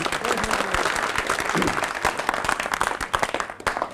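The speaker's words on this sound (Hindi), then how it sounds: "एक बार जोरदार तालियों के साथ स्वागत करें।" A village gathering in Lavan gives loud, steady applause to welcome a guest, a dense mass of claps that turns more scattered and uneven toward the end.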